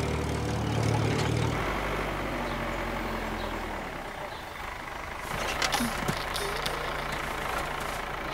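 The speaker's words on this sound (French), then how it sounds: "Eh, cousin Herbie, est-ce que je peux garer le tracteur?" A cartoon tractor engine idles with a low, steady chug that runs loud at first, then drops to a softer rumble, with rustling and other sounds joining toward the end.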